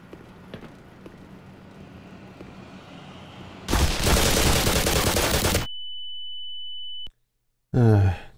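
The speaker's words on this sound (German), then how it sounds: "Da wird gerade ordentlich geballert." Heavy gunfire in the video game Black Mesa, a loud, dense two-second barrage that cuts off abruptly into a steady high electronic tone, followed after a silence by another short, sharp burst.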